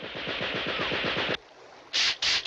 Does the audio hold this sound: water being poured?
no